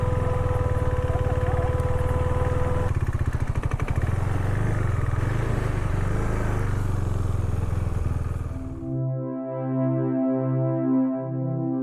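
A KTM Duke motorcycle rides a loose gravel road near Darjeeling, its engine a rough, close rumble mixed with wind and clatter for about eight seconds before music takes over.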